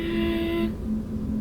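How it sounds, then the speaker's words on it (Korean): Synthetic virtual engine sound from a stopped KG Mobility Torres Hybrid, a steady low electronic hum that carries on alone at moderate level, with its upper harmonics dropping away partway through. "이 사운드가 가상엔진음 2고요."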